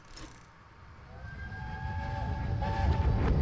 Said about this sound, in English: Oh, the trains again.